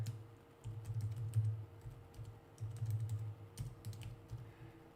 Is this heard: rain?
no